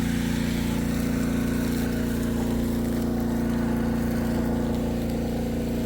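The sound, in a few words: strong water well pump running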